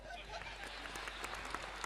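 Audience applause at a Hindi comedy poetry show, a brief dense wash of clapping from a crowd, steady and moderately loud throughout.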